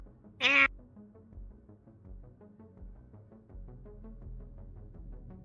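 A short, high meow rings out once over a low, steady background hum, with no talking.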